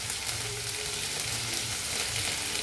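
Whole spices such as bay leaf sputter in a generous pour of hot ghee, a steady close sizzling hiss with faint low rumbles underneath and no talking.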